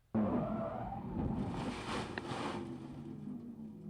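A GT race car from the 1996 JGTC roars in suddenly and loud, its engine sustained at high revs and then easing slightly as it holds on close by.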